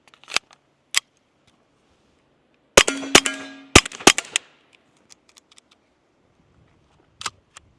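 A suppressed Smith & Wesson M&P 22X pistol with Winchester rounds gives a few sharp, close pops and metallic clacks with a brief ringing tone, spaced out over several seconds, then scattered light handling clicks.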